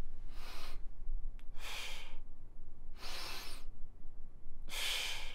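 Slow, controlled breathing in a sophrology exercise: four even, breathy bursts of air roughly a second apart, alternating inhales and exhales, close and clear against a low steady hum, with no talking.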